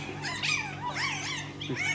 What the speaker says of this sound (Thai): ลูกหมาลูกหมาครับ